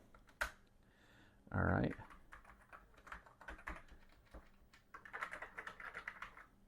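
Keys clack on an Atari ST computer keyboard in a quick, uneven run of close taps, with one louder burst of rapid strokes, while someone speaks briefly.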